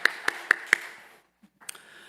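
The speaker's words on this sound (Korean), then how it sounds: "우리 하나님께 감사와 영광의 박수 올려드리겠습니다." Church congregation at a Wednesday evening prayer service clapping, four sharp claps in an even rhythm, then a short silence and a fainter clap, fairly close and with no speech over it.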